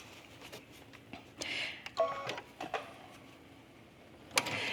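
A sewing machine stitches the side seam of a pinned fabric accessory bag in short, quiet mechanical bursts separated by pauses, with a final brief run near the end.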